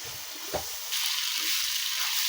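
A spice paste of cumin, turmeric and dried chili powder goes into hot oil with fried garlic, ginger and onion for a Bengali rui fish dish, a brief thump followed by a steady, loud sizzle.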